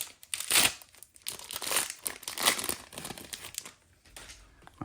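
Foil wrapper of a 1993 Bowman baseball jumbo card pack crinkling and tearing open in close bursts, loud crackles rising and falling over several seconds with no talking.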